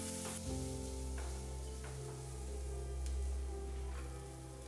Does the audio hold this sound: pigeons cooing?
no